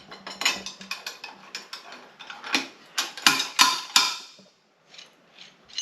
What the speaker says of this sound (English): You will need a proper dowel puller to get these out, but they do come out nice and easy like that.